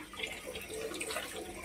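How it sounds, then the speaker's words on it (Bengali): Running water splashing over cut fish pieces as they are rinsed in a sink, a brief, soft, continuous wash of flowing water. "এবার মা ধুয়ে ধুয়ে রাখছে।"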